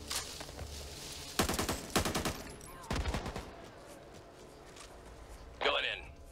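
Rapid bursts of automatic gunfire from a Back 4 Blood co-op match, several loud volleys in quick succession followed by a sharper burst near the end, over a continuous game soundscape.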